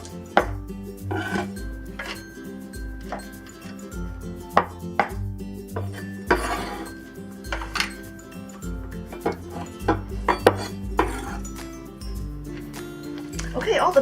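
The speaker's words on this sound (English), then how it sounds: "we'll cut the chives in same like 2-inch sections" A knife chops chives into 2-inch sections on a cutting board, a steady run of crisp, close taps with short pauses, laid under continuous talking during Chinese cooking prep for pressed bean curd with shredded pork.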